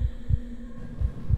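Heartbeat in the SCP-087 horror video game, a deep low double thump pulsing about every second beneath a steady low hum, no voices.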